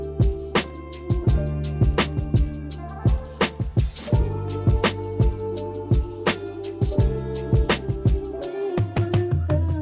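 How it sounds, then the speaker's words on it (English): Synth lead from a Portal plugin preset playing over a beat, with sharp, regularly spaced percussive hits and sustained tonal notes in a steady, loud rhythmic pattern. "so if we load up a portal and find the correct preset, it sounds like this"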